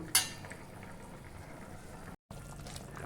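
Chicken meat simmers in a pot, a faint, steady bubbling wash with a brief click near the start and a short dropout midway.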